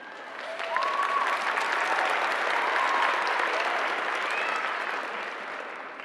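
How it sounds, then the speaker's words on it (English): A graduation audience bursts into sustained, dense applause that swells quickly, holds for several seconds and tapers off, with a few faint cheers mixed into the crowd. "That alone deserves applause."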